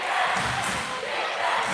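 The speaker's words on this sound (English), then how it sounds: "The Waldron Bulldog crowd is showing their Bulldogs some love as the crowd erupts and chant" A junior high boys basketball crowd cheers and chants in a gym, a dense, sustained roar of many voices filling the whole stretch at steady loudness.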